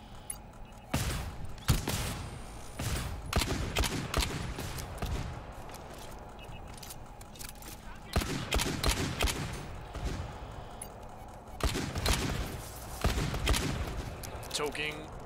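A shotgun sentry turret in the game GTFO fires repeated heavy blasts in irregular bursts, loud and close, with clusters of rapid shots separated by short lulls amid mechanical clatter and footsteps.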